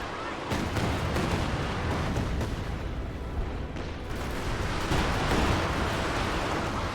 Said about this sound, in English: Panzer Warfare barrage there.